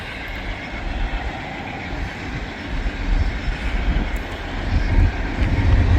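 A freight train starts moving eastbound near a switch and a crossing whose gates are lowering, heard as a steady low rumble that builds gradually and grows louder toward the end.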